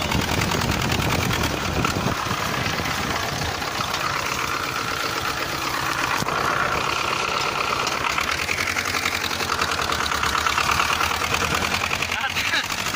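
An engine hauling a large trailer of grapes runs rough and labors at low revs, sputtering and failing to pick up speed, with a person talking over the steady mechanical noise.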